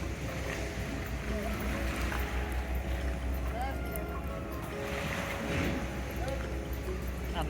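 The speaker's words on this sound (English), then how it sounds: "we decided to take a ferry back to Varenna, about a 15-minute ride" Ferry on Lake Como heading to Varenna: a low, steady engine drone with wind and water wash, fairly quiet and continuous throughout.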